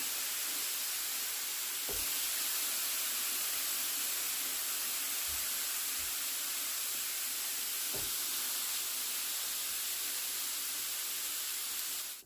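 Steady, dense hiss of whole eggplants charring in a dry grill pan with no oil, a continuous close sizzle with a few faint soft knocks and no talking.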